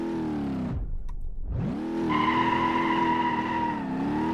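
A Toyota Supra on drift tires and race suspension in BeamNG, engine dropping then surging back to a loud, steady high rev with a tonal squeal layered over it, close and continuous, no voices.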